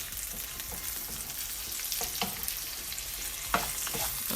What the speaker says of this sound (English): my sausages are just like slowly sauteing in there together with the rest of the ingredients